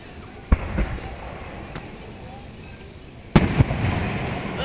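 Fireworks go off at a July fireworks show in Tri-City, Kentucky, with two sharp, loud bangs a few seconds apart over a constant outdoor background rumble.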